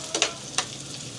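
Dinuguan sizzles and hisses in a pan in a steady fry, broken by a few quick scraping stir sounds close by.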